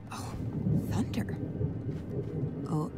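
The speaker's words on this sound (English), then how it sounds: "In a few seconds, we'll hear thunder." Low thunder rolls in the video game 12 Minutes, a deep rumble running through the scene under close male speech and faint background effects.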